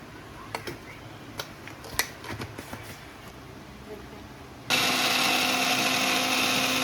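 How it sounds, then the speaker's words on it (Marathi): A kitchen mixer grinder blends a spice masala of red chilli powder, turmeric, black chilli powder, coriander powder and salt, its steady loud whir starting partway through after some light handling clicks. "या प्रकारे मसाला काढून घ्यायचा आहे मिक्सरमधून"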